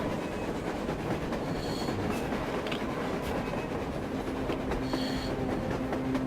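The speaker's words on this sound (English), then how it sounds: "A train! A damn train on the surface!" A train rolls past on the surface in the post-apocalyptic Moscow of the game Metro Exodus, a loud, steady rumble of wagons with rhythmic clacking and brief metallic squeals, with no talk.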